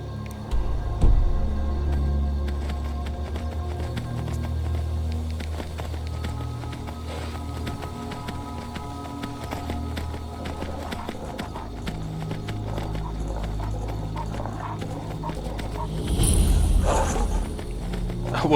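Steady clip-clop of horse hooves walking at an even pace in Skyrim near High Hrothgar, with a low rumbling ambience and a louder burst of activity near the end.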